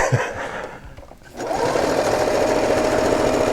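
A vintage sewing machine starts up after a moment of quieter clatter, then runs steadily with a constant mechanical whir and rapid stitching chatter.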